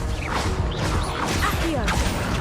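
The Confringo spell is cast in Hogwarts Legacy, making a dense, loud burst of magical whooshes and crashing impacts that fills the short moment without a break.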